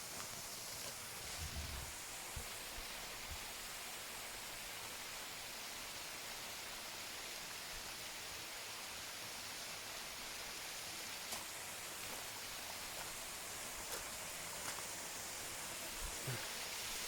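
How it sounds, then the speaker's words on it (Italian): A gentle waterfall where water slides over stones makes a faint, steady, even hiss that runs unbroken throughout, with a few soft splashes and no voices. "Non è tanto chiassosa perché praticamente l'acqua scivola sui sassi"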